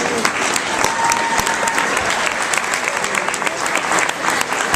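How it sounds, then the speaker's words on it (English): An audience at an evening school reading event applauds 5th graders, a steady, dense round of clapping filling the room, with a brief whistle-like tone early on. "So let's give our 5th graders one more big round of applause."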